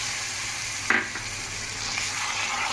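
Cashews and char magaz melon seeds are stirred into a pan of fried spices; one sharp clunk of the spoon rings out early, then a steady low sizzle with soft stirring continues.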